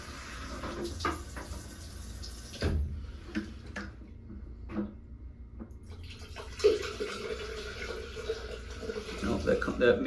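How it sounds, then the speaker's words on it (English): Sink water runs across a store floor and back toward a floor drain, a steady wash of flowing water with light ticking. A voice talks over it. "So that's where the sink water is coming from."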